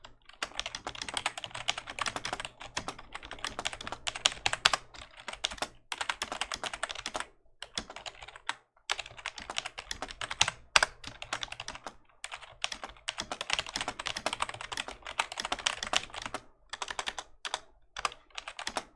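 Rapid typing on a computer keyboard while entering text into OBS, bursts of clattering keystrokes broken by brief pauses, close and fairly quiet, with no voices.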